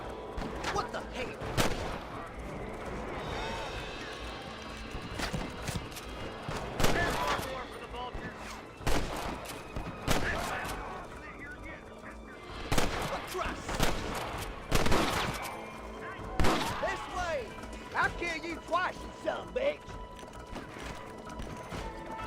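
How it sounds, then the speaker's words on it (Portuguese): Gunfire in a Western-style GTA video game on horseback, with scattered sharp shots and short bursts spread irregularly across the stretch, alongside hoof clops and mechanical game sounds, with some voice in the mix. "E o barulhinho dos tiros?"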